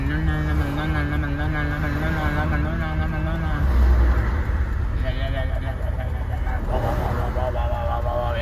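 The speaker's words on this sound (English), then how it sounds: "We gotta wait on all these cars." Road traffic streams past a waiting truck, cars swishing by one after another at close range while someone talks over the steady roadside rumble.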